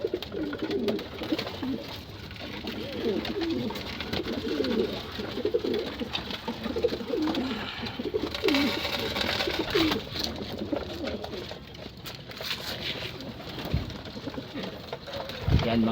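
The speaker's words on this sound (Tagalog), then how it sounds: "Yan lang pong update ko ngayong araw sa ating mga ibon." Pet racing pigeons coo softly and repeatedly in a loft. Their low, throaty calls overlap through a light background hum.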